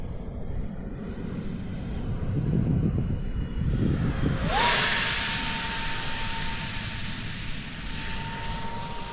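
RC model NGAD jet aircraft in flight outdoors at dusk, a steady whining jet roar that swells as it passes close, its pitch jumping upward midway and then holding a loud sustained whine.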